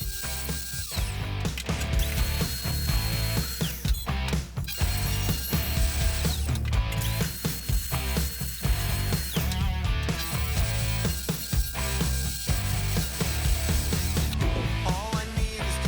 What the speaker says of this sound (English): In this first step, I'm going to route as deep as I can.